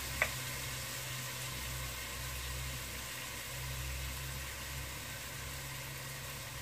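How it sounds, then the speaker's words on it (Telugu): Potatoes frying in a pan give a soft, steady sizzle and hiss under a low constant hum, faint and unbroken, with one brief click near the start. "దీన్ని పచ్చి వాసన పోయే వరకు వేయించుకుందాం."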